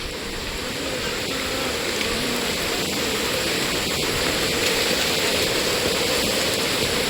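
River water rushing loudly and steadily during a crossing on a misty, rainy trek to Mahuli Fort, a dense continuous roar close by with no talk.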